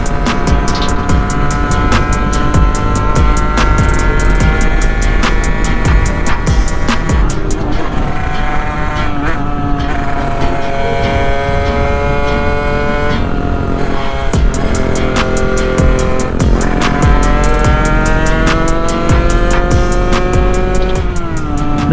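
A Sherco two-stroke big bore motorcycle engine rides on the street, loud and close, winding high and rising and falling in pitch through the gears with a continuous buzzing drone.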